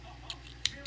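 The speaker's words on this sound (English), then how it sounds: "the way I change colors is I cut this off and tie it off" Scissors snip crochet yarn in three quick, faint cuts spread over under a second against a quiet room hum.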